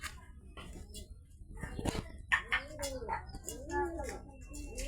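Pigeons cooing nearby, several soft, rounded coos repeating in a loose rhythm, with light rustling and a voice talking faintly at times.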